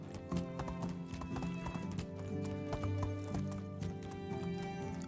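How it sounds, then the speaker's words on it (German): Horse hooves clip-clop steadily while riding at a trot through the medieval countryside of the Medieval Dynasty video game, a continuous rhythmic clatter over a bed of game music, with a brief whinny. "wir reiten hier einmal komplett durch"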